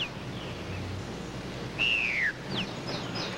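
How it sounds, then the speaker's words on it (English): A bird's chirps and a clear descending whistled call stand out faintly over low room noise, a few short tweets following at moderate distance, with no talking. "why don't you give the bird to Mac"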